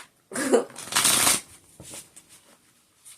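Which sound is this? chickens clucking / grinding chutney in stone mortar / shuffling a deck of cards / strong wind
shuffling a deck of cards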